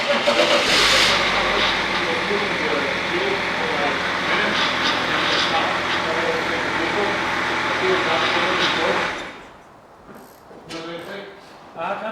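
Engine of a replica American state trooper police car running loud and steady with a rough roar, then suddenly cutting off, leaving near quiet with a few faint knocks.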